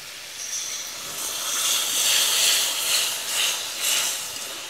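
Water poured into a hot pan of spiced potatoes fried with curd, giving a steady hiss of steam that swells and pulses over several seconds, with no talking.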